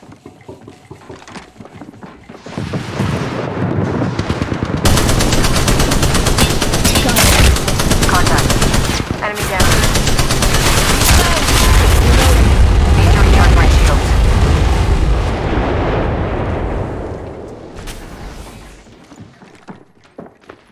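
An artillery bombardment in the Apex Legends Mobile video game: loud, sustained rolling booms and heavy explosions mixed with rapid machine-gun fire, building up, roaring for about twelve seconds, then tapering off, with voices speaking underneath.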